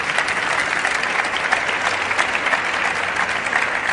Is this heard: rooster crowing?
no